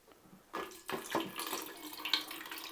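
Water pours and splashes steadily from a container as it drains during hot sauce preparation, a continuous trickling wash that starts abruptly and runs on at moderate volume with no talk.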